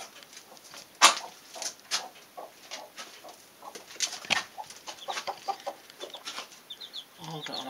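A broody mother hen clucks near her small chicks in a coop, giving soft scattered clucks and grumbles with faint high peeps mixed in, close and fairly quiet.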